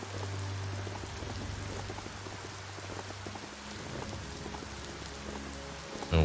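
Steady rain falls in the Biomutant video game, a dense, even patter with low rumbling underneath, ending in a sudden louder burst.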